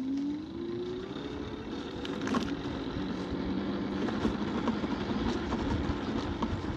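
A 2025 KuKirin C1 Pro 14-inch electric scooter, unrestricted and set to speed 3, accelerates in cold 3-degree weather. A rising motor whine climbs over steady rolling and wind rumble, continuous and close.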